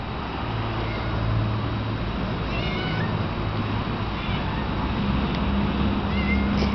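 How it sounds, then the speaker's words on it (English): A cat meows several times, short drawn-out calls standing out near the listener over a soft background of distant road traffic. "There's a cat."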